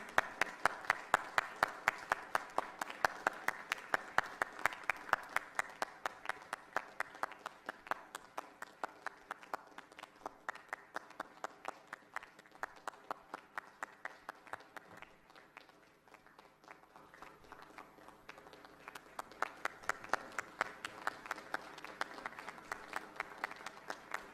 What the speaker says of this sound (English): Let us welcome them by extending a round of applause.